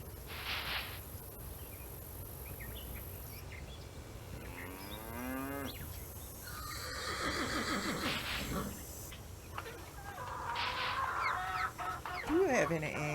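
Farm animals in a Nancy Drew ranch adventure game: a chicken clucks among repeated cow moos and other barnyard calls, with animal sounds layered steadily over a constant ambient bed across the scene.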